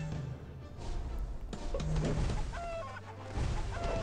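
A hen clucks in the video game What The Hen, with several short calls over a dense, busy bed of game noise and music.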